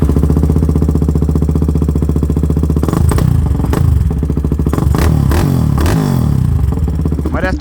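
Polaris Predator 500 ATV engine, revived after sitting for years, running loud and close with a steady rapid idle pulse, then several sharp throttle blips and revs midway before settling back to idle.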